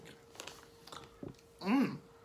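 Soft crunches and mouth sounds of someone chewing sweets, quiet and close, a few light bites followed by a louder voiced murmur near the end.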